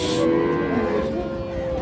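A Holstein Friesian cow moos at a Bangladeshi cattle market, one long, loud, close bellow filling the whole moment with a deep steady tone.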